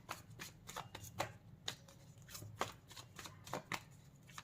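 A tarot card deck is riffled and shuffled by hand in quick, crisp bursts of papery flutter, close and fairly quiet, with short pauses between passes.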